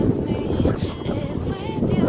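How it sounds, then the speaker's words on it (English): Strong wind at a hiking spot in Nairobi buffets the microphone in loud, gusty surges that rise and fall over a short span. "The wind here is so intense, super, super intense"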